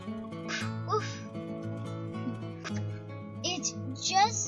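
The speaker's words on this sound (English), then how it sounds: "Woof." A dog barks once or twice, soft yips over a steady background tone, with voices speaking around it.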